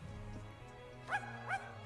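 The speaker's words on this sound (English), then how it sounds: "That is a dog, actually. It has ears and it barks." Zero, the ghost dog in the Twisted Wonderland video game, gives two short high yips about half a second apart over a steady low game music bed.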